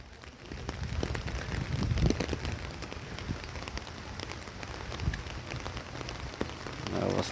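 Heavy monsoon rain pours down on surfaces, a dense, continuous patter with scattered louder drops and a soft low rumble underneath, steady throughout and without speech.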